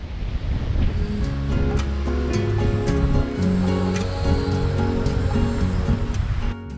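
Mediterranean waves wash against the Moroccan coast in a continuous, loud roar of surf mixed with wind buffeting the microphone, with no voices over it.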